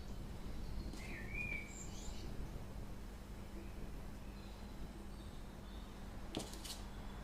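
Birds chirp faintly in the background of an outdoor spot, a few short high calls rising over a steady hum of ambient noise, with a sharp brief sound near the end.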